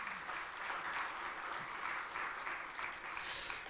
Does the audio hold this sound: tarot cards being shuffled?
no